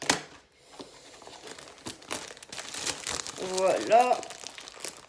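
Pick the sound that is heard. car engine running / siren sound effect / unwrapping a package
unwrapping a package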